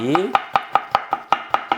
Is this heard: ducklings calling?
no